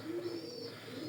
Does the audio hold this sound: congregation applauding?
no